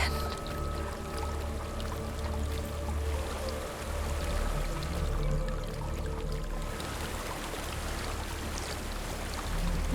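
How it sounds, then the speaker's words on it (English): A waterfall in Hellblade: Senua's Sacrifice gives a steady broad rush of falling water, constant and moderately loud, with a low ambient hum beneath and no talk. "There's a waterfall."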